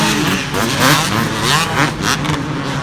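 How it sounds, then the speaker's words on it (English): Two-stroke motocross bike racing in a championship event, engine buzzing loud and close with continuous revving and pitch swings as it accelerates past. "Brown is on Jason Anderson's straight rhythm bike from last year."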